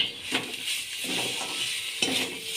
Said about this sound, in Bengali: এবার পনিরটাকে ভালো করে কষিয়ে নিতে হবে।